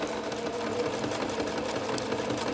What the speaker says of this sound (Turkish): bu makinenin üzerindeki desenleri yapabilmek için kendi dikiş ayağıyla yapmak daha düzgün bir şekilde çıkarmasını sağlıyor